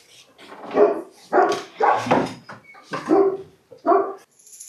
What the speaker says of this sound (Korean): 제작진을 보고 짖기 시작하는 코몬도르